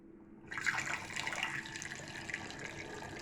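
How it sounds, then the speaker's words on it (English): Fermented yoghurt whey pours in a steady liquid stream into a demijohn, starting abruptly after a brief quiet moment and continuing as a close, even splashing trickle to the end. "and then we'll pour it into the demijohn"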